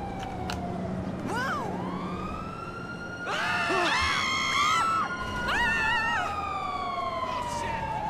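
Wailing police sirens rise and fall in GTA 5 Online, several overlapping and growing louder midway, over a low background rumble with a faint crowd.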